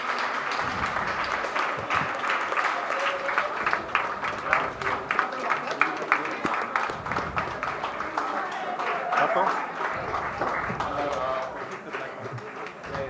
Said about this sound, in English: Edo Mutara being applauded by the grid girls on their way up to the